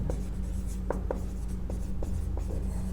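A pen scratches steadily across paper while a math solution is written out: continuous close-up strokes with short taps and lifts, no voice, over a low room hum.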